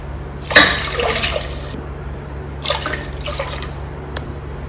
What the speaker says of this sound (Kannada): ಅದೇ ಗ್ಲಾಸಲ್ಲಿ ಮೂರು ಗ್ಲಾಸ್ ನೀರು ಹಾಕಬೇಕು